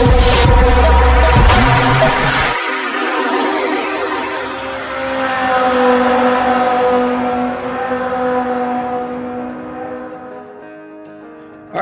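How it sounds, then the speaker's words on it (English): Supercar engines in street racing roar loudly, one surging pass rising and falling in pitch with a throbbing hum, layered revs holding over many seconds before fading out. "Supercar Street Racing."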